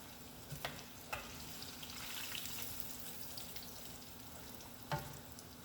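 Tortilla chips frying in hot oil give a faint, steady sizzle with a few soft clinks and pops scattered through, quiet and without speech.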